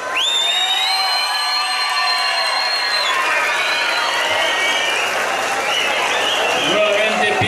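Crowd applause and cheering fill the stands at a bull riding tournament, steady and dense throughout, with an announcer's amplified voice and whistles ringing over the clapping.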